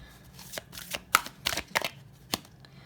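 Tarot cards being shuffled by hand in a quiet room, a series of sharp crisp riffles and flicks in an irregular rhythm, close and fairly clear, with no talk.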